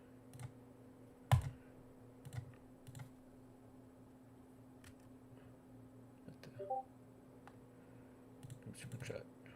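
Typing on a Magic Keyboard that seems faulty, scattered key clicks and taps close to the mic over a steady low hum, with quiet voices talking intermittently.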